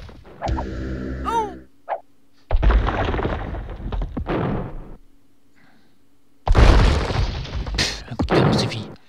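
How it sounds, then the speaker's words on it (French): Cannon fire in the strategy game Age of Empires II sounds as a few loud, heavy booms with crashing impacts, close and abrupt, separated by short gaps of quiet. "Un coup de canon, c'est fini."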